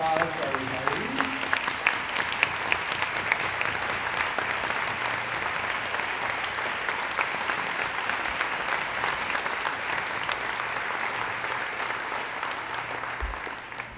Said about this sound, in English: Everyone, a round of applause for our retirees.